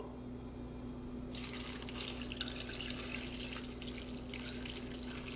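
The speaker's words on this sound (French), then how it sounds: "je vais verser de l'eau" Water pouring into a cooking pot of Congolese fumbwa with peppers, shallots and onions, a steady splashing stream that starts after about a second and runs on evenly, close and moderately quiet.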